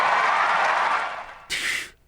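A crowd of students applauding in a played-back recording: a steady wash of clapping and crowd noise that lasts about a second and a half, fades, then rises again in a brief second burst before cutting off.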